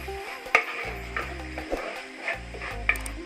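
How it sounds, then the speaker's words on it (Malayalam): Ginger, garlic and curry leaves sauté in a pan with a soft sizzle, punctuated by intermittent scraping stirs and light clicks of a utensil, close and quiet. "നല്ലപോലെ നമ്മൾക്ക് ഇതിൻ്റെ പച്ചക്കുത്ത് മാറുന്ന വരെ ഒന്ന് നല്ലപോലെ ഒന്ന് വഴറ്റിയെടുക്കണം"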